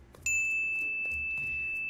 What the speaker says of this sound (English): And then let's have a bell